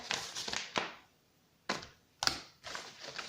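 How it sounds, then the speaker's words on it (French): Excess paper is trimmed away during a craft project, heard as a few close, crisp snipping and tearing bursts separated by short silences, with no voices. "Je viens couper l'excédent"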